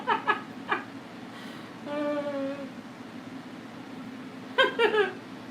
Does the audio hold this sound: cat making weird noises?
yes